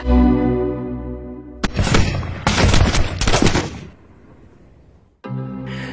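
A rapid burst of sniper gunfire from a film about a police officer inside a prison full of gangsters: loud, dense volleys of shots over roughly two seconds, set between stretches of sustained tonal music.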